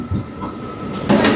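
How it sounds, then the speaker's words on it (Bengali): A local train on the Howrah–Digha line rolls into Tamluk station, a steady loud rumble with a metallic hum, then a louder surge of wheel and carriage noise near the end. "আমাদের ট্রেন এখন তমলুক স্টেশন ঢুকছে।"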